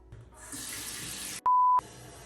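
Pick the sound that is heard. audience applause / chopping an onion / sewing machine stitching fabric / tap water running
tap water running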